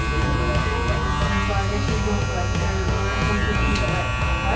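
Electric hair clippers fitted with a number two guard buzz steadily while cutting hair at the back of the head during a low bald fade, a loud close continuous drone with slight shifts as the blades move through hair.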